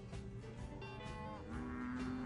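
Cattle on ranch grazing land moo in a low, drawn-out call that rises and holds steady, heard faintly against a soft background.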